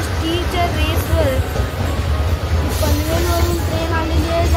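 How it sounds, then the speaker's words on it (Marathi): A Mumbai Harbour Line local train crossing near Wadala on the Panvel–CST route, heard from aboard another local: a steady low rail rumble with faint metallic squeals, while people talk over it. "पनवेलवरून ट्रेन आलेली आहे जाते CST ला."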